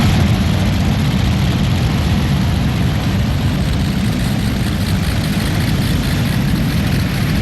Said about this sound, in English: now look, he's got his Allison aircraft engines